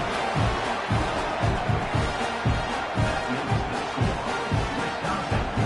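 A football stadium crowd roars after a successful extra point, making a steady, full wash of cheering and noise with no clear break. A few rhythmic swells rise through it.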